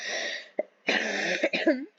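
A person who is sick coughs several times in quick bursts, close and fairly loud, with throat clearing mixed in.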